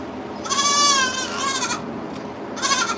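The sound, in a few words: goat bleating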